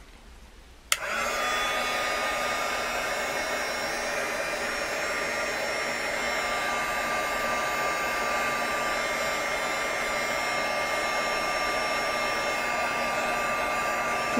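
A hair dryer switches on abruptly and blows steadily on epoxy resin, a loud, constant close whoosh with a high whine that holds unchanged to the end.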